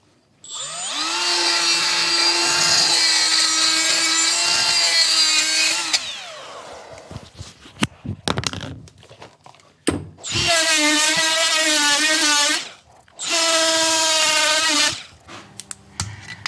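A power drill with an attachment, used in restoring a 1966 John Deere 110 Round Fender tractor, runs loud and steady for several seconds, then after a stretch of clattering and scraping it whines again in two long bursts.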